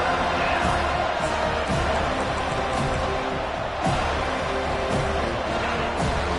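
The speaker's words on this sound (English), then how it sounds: "Here comes this home crowd as the defense tries to get off the field on third down" A home stadium crowd at a football game roars in a dense continuous wall of cheering, loud and steady, with occasional sharper bursts rising out of the din.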